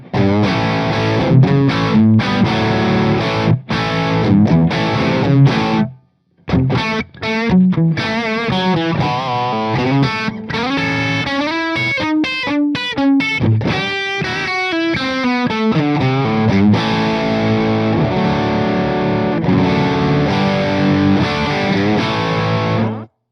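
Overdriven electric guitar, a Charvel Guthrie Govan Signature through a Victory MK overdrive amp on its first gain stage, plays chords and single-note lines with a warm, gritty crunch, loud and continuous apart from one brief pause.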